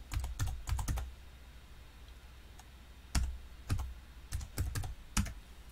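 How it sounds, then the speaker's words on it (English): Keys clatter on a computer keyboard as input is typed into a C++ program in Visual Studio 2019, arriving in short bursts of clicks with brief pauses, close and clear with no talking. "So we'll type in the same input."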